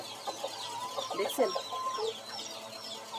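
Chickens on a small home farm cluck and chatter in a few short bursts at close range, fairly quiet, with an electric fan running nearby and a brief spoken word.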